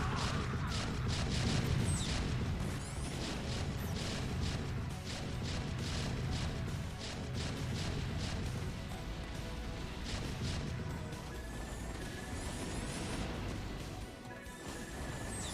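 Siege tank artillery in the video game StarCraft, a steady barrage of crashing explosive impacts and booms layered over dense battle noise, moderately loud and continuous.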